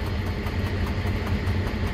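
Steady close idle of a heavy SNCF CC72100 diesel locomotive engine, a throbbing low-pitched drone held evenly throughout, with no talking.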